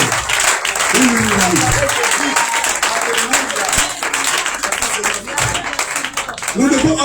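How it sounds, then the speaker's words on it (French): Church congregation applauding at a festival conference, dense steady clapping filling the space throughout, with voices and singing-like tones rising over the applause. "On acclame le Seigneur Jésus-Christ."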